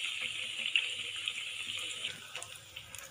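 Bread slices fry in hot oil, a continuous close sizzling hiss with small crackles and pops throughout.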